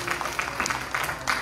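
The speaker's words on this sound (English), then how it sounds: "give her a big round of applause for her 65th birthday" A round of applause for a woman's 65th birthday, many hands clapping steadily and fairly faint, heard briefly without voices over it.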